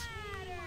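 A cat meows in the baseball video game Backyard Baseball: one drawn-out, wavering cry, clear and close, with a steady game background beneath it.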